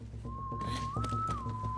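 In the Western-themed Borderlands 3 DLC Bounty of Blood, a lone clear whistled note holds steady, rises briefly to a higher pitch and falls back, sounding close and alone over a low ambient hum.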